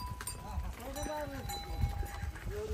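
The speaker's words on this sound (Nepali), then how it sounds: "ल यता चाहिँ बाजुले हो गाई बस्तु नि निकाल्नु" Cows, oxen and a buffalo are led out to graze, with faint, wavering animal calls, light bell clinks and scattered hoof sounds, while people talk in the background.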